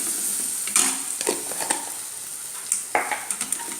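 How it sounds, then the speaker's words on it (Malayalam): Turmeric powder goes into hot oil in a pan off the heat while a spoon stirs, giving a soft sizzle under several irregular scrapes and metallic clinks against the pan. "ഈ എണ്ണയിലേക്ക് നമുക്ക് മഞ്ഞൾപ്പൊടി ഇട്ട് കൊടുക്കാം"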